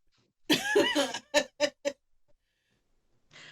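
A raspy cough mixed with laughter, followed by three short bursts of coughing in quick succession, close and moderately loud.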